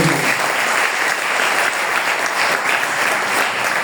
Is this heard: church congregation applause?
yes